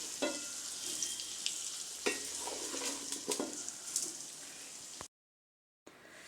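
Mango pickle with chilli powder and oil being stirred, a steady scraping and slick churning with soft clicks of the spoon against the vessel, close and continuous, then an abrupt brief silence before the stirring resumes.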